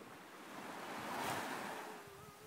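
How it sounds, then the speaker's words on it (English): Ocean waves break and wash ashore, a soft broad rush swelling to a peak and fading over a couple of seconds, with light wind buffeting the microphone. "You like those waves?"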